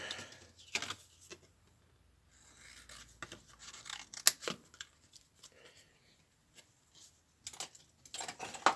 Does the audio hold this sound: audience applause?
no